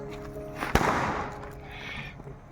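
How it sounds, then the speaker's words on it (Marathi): A single sharp firecracker bang nearby at a Tulsi wedding ceremony, followed by a fading crackling hiss over faint background noise. "छान असे यांचे फटाके वाजवत आहेत"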